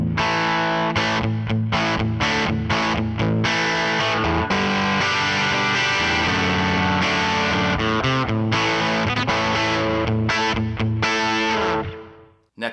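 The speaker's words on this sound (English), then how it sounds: "Now the humbuckers with some light distortion in the vintage position." An Emerald Virtuo electric guitar with humbucker pickups in the vintage position plays chords and riffs through light, crunchy distortion, loud and alone, ending with a ringing cutoff.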